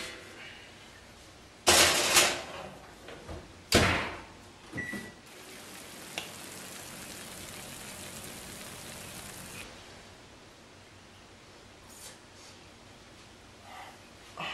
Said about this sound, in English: and into the oven it goes